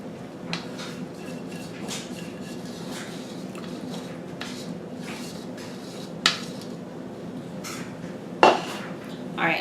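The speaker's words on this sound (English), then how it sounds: "I'm going to scrape all of my yeast out of my bowl" A utensil scraping hydrated yeast from a bowl while making pizza dough, a series of faint scrapes and scattered sharp clinks against the bowl over a quiet kitchen background.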